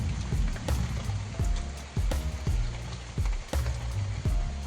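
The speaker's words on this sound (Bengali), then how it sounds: "দেখতে পাচ্ছ আমাদের দিকে কত বৃষ্টি হচ্ছে" Heavy rain falls steadily on a surface beside a pond, giving a dense patter with sharper drop impacts scattered throughout.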